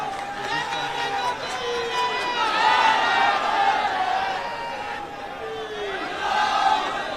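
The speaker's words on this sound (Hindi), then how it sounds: "तालियों से इस्तकबाल।" At a public meeting in Mumbra, Mumbai, a crowd cheers and shouts in a lively roar that swells and fades twice, with voices mixed into the noise.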